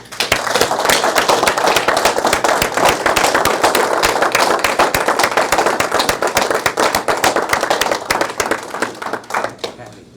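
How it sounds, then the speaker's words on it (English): Loud, sustained applause from a crowd at a medal ceremony honouring veteran Donald "Sarge" Sova, with dense clapping running the full length and thinning slightly near the end. "I would say let's give a really big round of applause to Donald Sarge Sova."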